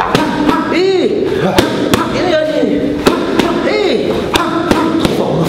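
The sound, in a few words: boxing punches thudding twice in quick succession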